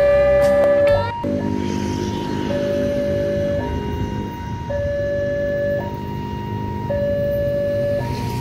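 A loud electronic railroad level-crossing warning siren in Indonesia, still operating though the road is closed, repeatedly alternates between two steady tones, preceded by a few sharp clicks.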